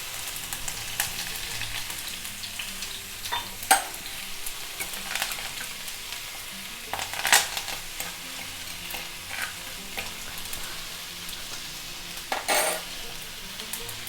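Mustard seeds, urad dal and curry leaves tempering in hot sesame oil give a steady close sizzle and crackle, with sharper pops and stirring scrapes breaking through every few seconds.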